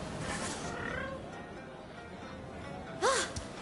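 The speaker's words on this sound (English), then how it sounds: "So many of my cats have returned." A cat in the video game Rise of the Ronin gives one short, clear meow near the end, with a faint earlier mew under a quiet ambient game background.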